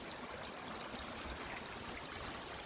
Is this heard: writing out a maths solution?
no